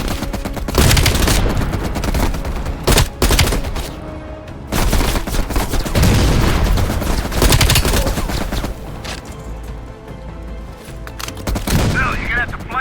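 Sustained machine-gun fire and explosions in the Call of Duty Black Ops video game, dense rattling bursts and booms filling the scene with brief pauses, close and loud.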